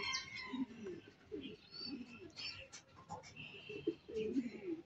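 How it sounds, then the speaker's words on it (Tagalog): Racing pigeons kept for summer races coo softly inside their loft, several low, rolling calls overlapping at a moderate distance, with faint chirps mixed in. "ito na yung ating mga pang summer race na mga kalapate"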